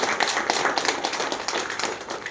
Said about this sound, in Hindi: एक बार इसके लिए ताली बजाइए।